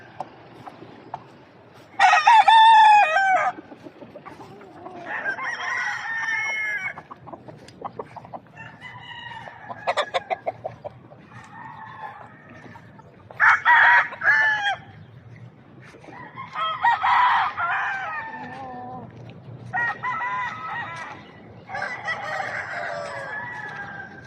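Rooster crowing repeatedly in bursts across the scene, loud and close, with clucking and other fowl calls between crows and no talk.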